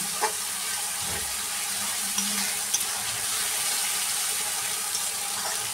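Ginger-garlic paste frying in a home kitchen pan gives a steady, close hiss with a few soft scrapes and knocks from stirring, and no one speaks.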